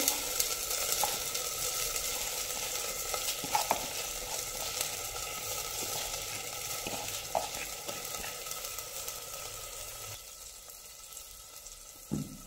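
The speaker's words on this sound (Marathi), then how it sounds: "आता ह्याच्यामध्ये सगळे तांदूळ घालून घ्यायचे" Rice goes into boiling water in a pressure cooker pot for jeera rice, giving soft bubbling and scraping stir sounds with a few sharper clinks over a faint, continuous wet hiss that thins out near the end.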